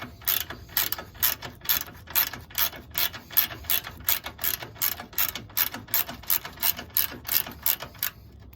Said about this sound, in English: I'm just going to tighten it the way it stays in place so I can get the other side lined up.